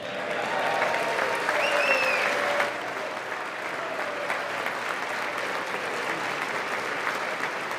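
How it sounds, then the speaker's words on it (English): Sustained applause and clapping from a large State of the Union audience in a big hall, loudest at first and then easing into a steady, dense patter of hands with faint whistles over it. "Just keep clapping."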